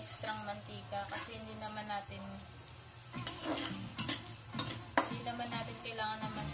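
Nachos fry in cooking oil with a steady sizzle while a utensil stirs and scrapes the pan in bursts; background music plays under the cooking noise.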